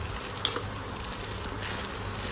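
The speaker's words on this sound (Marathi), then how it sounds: "एक दोन मिनटं फ्राय करायला ठेवून देऊया" Sabudana khichdi with crushed peanut powder, salt and green chilli frying in a pan, giving a steady close sizzle with soft crackle and a faint stirring scrape, no voices.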